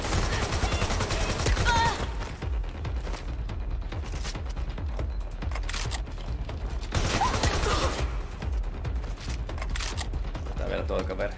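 AK assault rifle gunfire in Watch Dogs Legion, bursts of rapid shots in two loud clusters with mechanical clatter between them, with someone talking over parts of it.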